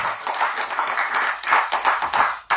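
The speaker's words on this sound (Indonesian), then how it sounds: "Tepuk tangan buat Kiai Haji Imaduddin Utsman Al-Bantani." A crowd applauds with dense, steady clapping that swells and fades slightly, continuing for a few seconds without speech.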